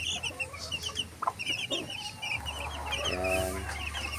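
A hen clucks steadily while many chicks peep in high, rapid chirps nearby, with a rooster crowing partway through amid outdoor background noise.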